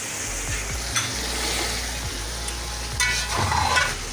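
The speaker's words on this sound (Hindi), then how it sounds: "5 मिनट इसको अच्छी तरह भूनिए, फ्राई करेंगे।" Chicken for Sindhi biryani fries in a pan, producing a steady loud sizzle broken by a few scraping stirs of a spoon against the metal.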